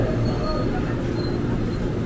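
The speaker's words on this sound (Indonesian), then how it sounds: "jalur 3 masuk komuter tujuan Bogor, JRI 205 series 12 kereta" A 12-car JR 205 series commuter train bound for Bogor rolls into track 3 at Depok station, a steady low rumble of wheels and rail noise with faint high squeals, continuous throughout.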